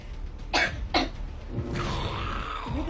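Two sharp, close coughs from a person, a fraction of a second apart, followed by quieter rustling and background noise.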